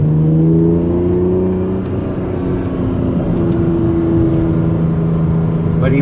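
A BMW M2 and a Z3 M coupe with the S54 engine cruise through a residential neighborhood at about 3,000 rpm in second gear, giving a steady, close engine drone with a slight rise in pitch and no talking.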